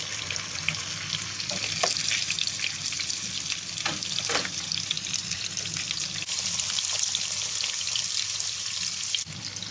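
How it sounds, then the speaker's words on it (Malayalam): Marinated tuna pieces fry in hot oil with curry leaves in a pan, giving a continuous loud, dense crackling sizzle with occasional sharper pops, close by and with no voices. "ഇനി നമുക്ക് ആ ഫിഷ് ഫ്രൈ ചെയ്ത് പോകാം."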